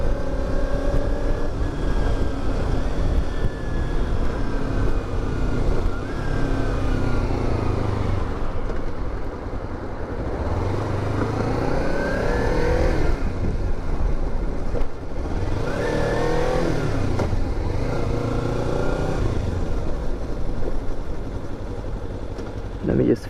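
A Kawasaki Ninja 300 motorcycle rides along with continuous engine drone and wind rumble, its pitch rising and falling through a couple of rev swells, while a rider talks over it throughout.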